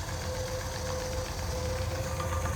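A battery-powered electric motor spins a car alternator through a loose belt, making a continuous close mechanical whir with a steady hum and a faint rattling texture, alone and unchanging.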